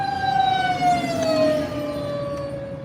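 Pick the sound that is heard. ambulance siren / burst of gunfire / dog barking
ambulance siren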